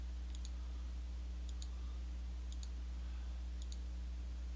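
Mouse clicks land on squares while colors are changed in a Cat Tipper reskin. Four evenly spaced double clicks sound, quiet and crisp, over a steady low hum.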